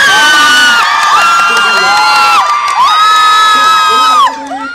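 A large crowd at a K-pop Dream Concert cheers and screams, high shrill voices rising and falling in overlapping waves, loud and close, dropping off abruptly near the end.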